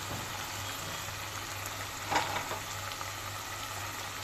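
Onion, spices and garlic paste frying in hot oil, a faint, even sizzle heard close and alone, with one brief louder crackle midway.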